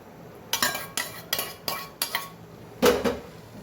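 A metal spoon stirs masala bhindi in a pan, six distinct scraping knocks against the pan at a steady pace, close by and alone without talk.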